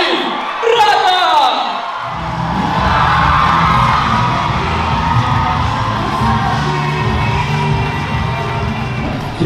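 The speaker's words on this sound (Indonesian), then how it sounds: "Tepuk tangan yang beri untuk Arif Brata" A live comedy show audience bursts into cheering, whoops and applause for stand-up comedian Arif Brata, a loud sustained crowd roar swelling after a short lead-in and holding steady throughout.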